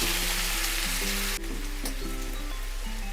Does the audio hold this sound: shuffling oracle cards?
no